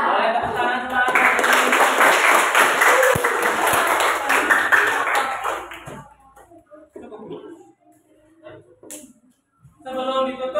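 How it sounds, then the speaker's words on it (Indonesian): A classroom of students claps together in a dense burst of applause lasting several seconds, loud and close, then fading out into quiet with some talk afterward. "Boleh tepuk tangan semuanya."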